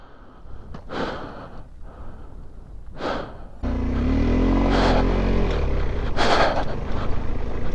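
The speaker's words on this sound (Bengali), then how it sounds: "হাঁপিয়ে গেলাম বাইকে ধাক্কা মারতে গিয়ে" A rider pants hard at high altitude after pushing a stalled motorbike, giving a few sharp breaths up close. An engine starts partway through and rumbles steadily under the later gasps.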